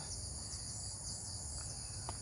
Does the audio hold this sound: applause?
no